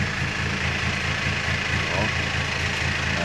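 Car engine running with a stock-style engine setup, a steady low rumbling idle with a regular pulsing throb, close and continuous.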